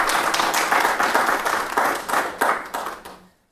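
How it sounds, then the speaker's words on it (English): Audience at a nursing and midwifery masterclass lecture claps in a dense, fairly loud burst of applause that holds steady for about three seconds, then tapers off quickly into silence. "Please give a warm round of applause to Mary."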